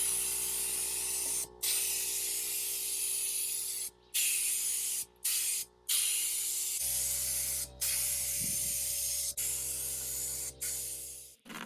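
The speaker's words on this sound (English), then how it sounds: "I used varnish and I sprayed a couple of coats just to protect it and make it easier to clean" Varnish sprayed in a couple of coats onto a wooden lab bench, long hissing bursts from the spray can broken by brief pauses between passes, close and fairly loud, with a low steady hum underneath.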